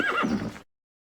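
A horse whinnies loudly and close, with a wavering high neigh that falls in pitch, ending abruptly after about half a second, then silence.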